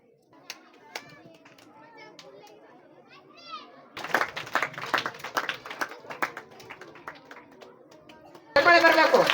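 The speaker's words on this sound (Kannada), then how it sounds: "ಚಪ್ಪಾಳೆ ಬರಬೇಕು." At a government school program in Lingadahalli, Sira taluk, children's voices and scattered claps give way midway to a burst of crowd clapping, which swells louder again at the very end.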